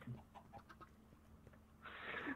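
Minecraft chicken mob clucking in a short, fairly loud burst of chirpy squawks near the end, after a stretch of quieter in-game sounds.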